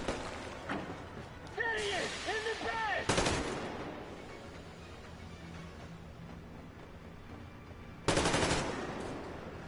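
Gunfire in the Metro: Exodus video game: loud rapid bursts of automatic fire cut in and out over a stretch of game sound, with voices speaking in between.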